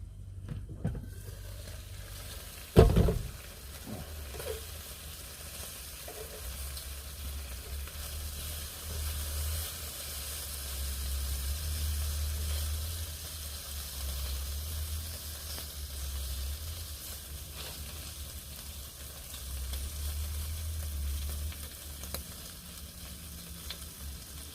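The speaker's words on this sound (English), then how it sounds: "I'm doing me some bacon baps." Bacon rashers frying in a pan for bacon baps in a campervan, a steady hissing sizzle running throughout with one loud knock near the start and faint crackles on top.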